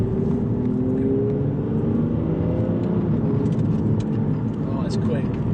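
Aston Martin Virage pulling hard in sport mode with firm suspension, heard from inside: a steady, loud engine drone with rising tones under constant road and wind roar, while someone talks over it.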